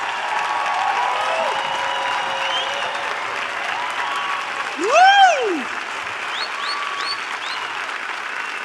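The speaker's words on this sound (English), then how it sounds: "Give him a round of applause, everybody" Applause from a seminar audience at an event, a steady wash of clapping with a loud whoop rising over it midway, followed by a few scattered cheers.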